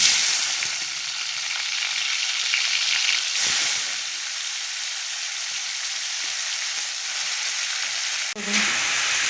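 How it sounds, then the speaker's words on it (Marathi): Washed, squeezed tomatoes roasting in hot oil in a kadhai, a loud, dense, continuous hissing sizzle that dips briefly midway and is cut by a sharp knock near the end. "धुतलेले टोमॅटो अगदी पिळून त्याच्यामध्ये टाकून चांगलं भाजूया"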